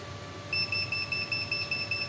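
A Foxsur smart portable battery charger sounds its short-circuit alarm after its alligator clips are shorted together: a steady pulsing train of shrill electronic beeps starts suddenly and repeats in a fast, even rhythm.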